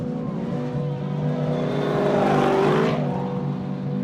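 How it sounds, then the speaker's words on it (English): A Baja 1000 race truck rolls toward the Ensenada finish line, its engine revving steadily with rising and falling pitch as it passes close by, loud over a continuous background of crowd and road noise. "And one of the first vehicles to roll in is none other than the truck of Nasser Al-Attiyah and Toby Price"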